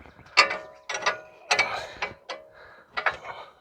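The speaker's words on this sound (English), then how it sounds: "loosen this bolt down" A wrench loosens a bolt on a Ford Flex stabilizer link, producing a series of close, sharp ratcheting clicks in short bursts with small gaps between strokes.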